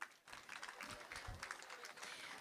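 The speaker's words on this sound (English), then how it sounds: "Round of applause, please." Applause at a wedding reception, a steady wash of many hands clapping that fills the room for a couple of seconds, heard faintly and at a distance.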